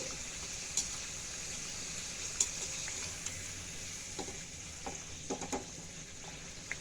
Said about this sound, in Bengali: সুন্দর লাল লাল করে ভেজে দেব।